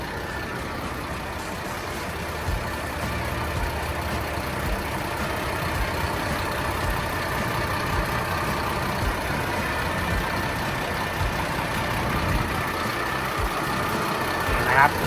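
A Mitsubishi MG500S motor grader's turbo diesel engine idles steadily with a low rumbling drone, close by, while someone talks over it.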